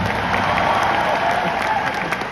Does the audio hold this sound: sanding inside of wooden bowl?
no